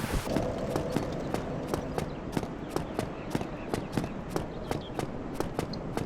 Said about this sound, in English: The footstep sounds are not matching the movement of my feet.